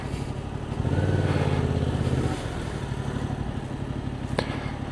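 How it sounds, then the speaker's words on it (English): A motorbike engine rumbles close by, revving up strongly for about a second before settling to a steadier drone, with no talking over it. "And I'll go in the motorbike,"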